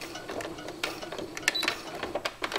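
A sewing machine stitching the snout of a wolf bracelet, producing quiet short bursts of rapid mechanical ticking that start and stop within a couple of seconds.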